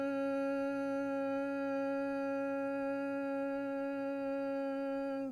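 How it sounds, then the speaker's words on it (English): A steady humming breath, a buzzing bumblebee-style hum sustained through one long exhale, close and even in loudness, with no speech. "humming or bumblebee breath sounds like this"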